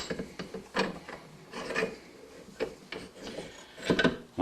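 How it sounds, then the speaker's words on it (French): Vise being tightened with a rag in its jaws during disassembly of a Brompton folding bike hub: close, repeated rasping and ratcheting strokes in an irregular rhythm, with no talking. "je vais utiliser une guenille à l'intérieur ou un linge à l'intérieur de mon étau, comme ceci, et je vais serrer"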